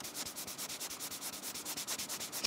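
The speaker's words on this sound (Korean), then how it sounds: "손가락으로 만졌을 때는 어떤 소리가 들리는지 한번 들어봅시다." A finger rubs quickly back and forth over a paper-texture screen protector film on a Galaxy Tab S7+, making a steady train of close, dry scratchy strokes, about six per second, with no voices.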